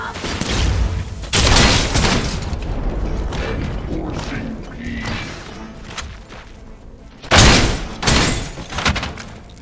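Dense video-game gunfire in Robocop: Rogue City, loud bursts and heavy shots crowding the whole stretch, strongest near the start and again near the end, with game voices mixed in.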